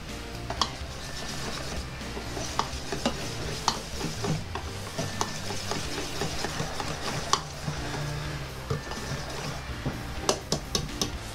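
A whisk stirs puto flan batter in a bowl until the lumps are gone, with continuous swishing and scraping broken by sharp clicks of the utensil against the bowl's side.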